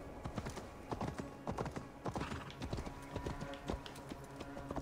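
Horse hooves clip-clop at a steady, uneven trot in Assassin's Creed Valhalla, with repeated sharp hoof strikes close by and no talk over them.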